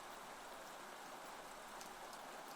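Steady rain falls outdoors during a rainy day, a soft, continuous hiss of drops on surfaces heard at low level and evenly throughout, with no voices.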